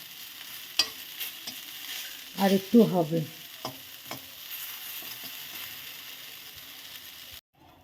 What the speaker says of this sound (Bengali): রসুনগুলো সুন্দর ভাজা হয়ে গেছে, শাকের সাথে একসাথে ভাজা হয়ে গেছে